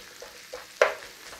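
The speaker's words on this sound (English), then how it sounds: "Starting to sizzle in there." Onions and garlic with thyme sizzle faintly in a pan, a quiet soft hiss with a single sharper crackle or stir sound near the middle.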